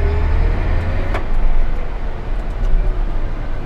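A John Deere 6150R tractor with an IVT transmission drives along, its loud steady engine drone and low rumble continuous from close inside the cab.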